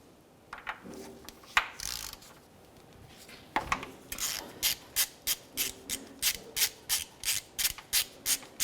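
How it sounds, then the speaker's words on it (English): Rapid ratcheting clicks from a 22mm socket wrench loosening a part on a 2004-2015 Nissan Titan engine during oil cooler seal replacement, steady regular bursts of close mechanical clicking with a few louder clunks earlier. "we'll continue on with a 22mm socket and carefully remove this area."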